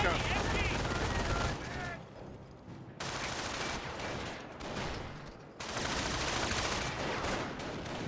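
Rapid bursts of rifle and machine-gun fire crackle in a Company of Heroes battle, near and sustained with short lulls between volleys, heard under a commentator's voice.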